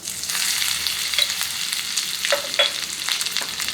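Steady sizzling of ginger-garlic paste and ingredients frying in a pan for mint rice, a continuous crackling hiss with a few light scraping stirs, no talking.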